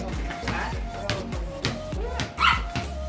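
Dogs at a house bark repeatedly at moderate distance, a run of short rhythmic barks mixed with yips and whimpers over a busy background.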